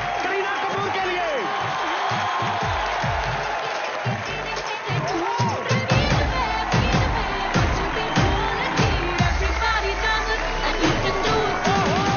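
A studio audience at a live comedy show applauds and cheers for arriving Bollywood guests, loud dense clapping and whoops swelling in bursts with music and talk layered underneath.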